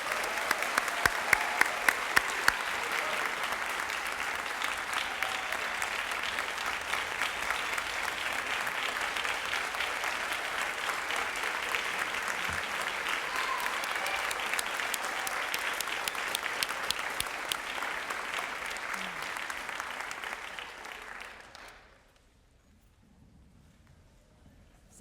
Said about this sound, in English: Let's give all of our seniors one more round of applause.